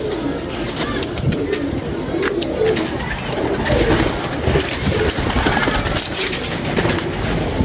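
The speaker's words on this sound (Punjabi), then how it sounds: "ਤੈਨੂੰ ਪਤਾ ਹੀ ਨਹੀਂ ਕੀ ਕਬੂਤਰ ਹੈਗਾ। ਡੈਡੀ ਕਬੂਤਰ ਹੈ।" Pigeons coo softly and repeatedly nearby, their low murmuring calls continuing against a busy, noisy background.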